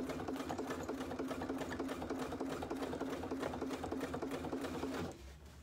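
Close up, a sewing machine topstitches through cork for a bag in a rapid, steady stitching run of about five seconds, then halts abruptly.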